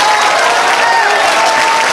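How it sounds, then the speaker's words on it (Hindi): Audience applause for an honoured guest at a Hindi-language talk, a dense, steady wash of many hands clapping at once, loud and continuous throughout with no break. "तो एक बार ताली बजाइए सर के लिए।"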